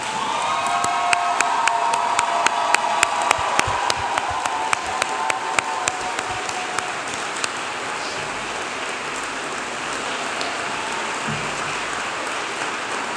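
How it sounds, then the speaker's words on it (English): A commencement audience applauds the graduating physical therapy class at Emory University, a broad wash of clapping and some cheering with sharp individual claps standing out early, settling into a steady, softer roar. "can you please rise so we can applaud you?"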